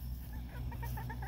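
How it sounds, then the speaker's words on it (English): Chickens on a farm clucking in short, repeated calls over a steady low background hum, fairly close and moderately loud throughout. "Yeah, you better run, chicken."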